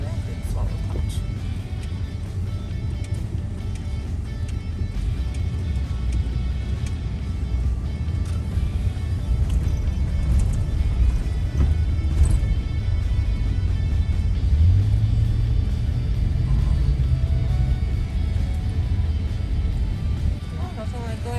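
A car driving along a city boulevard in Racine, Wisconsin and passing through a stoplight, its steady road rumble and engine hum continuous throughout, with people talking over it.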